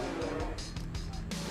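A V8 drift car at Sportsland Sugo in Miyagi roars through a qualifying run with a pulsing, revving engine and tire noise, while commentators talk over it.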